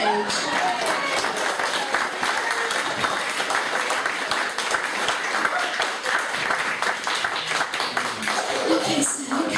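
A comedy club crowd claps steadily and fairly loudly throughout, a thick continuous wash of applause welcoming someone onto the stage.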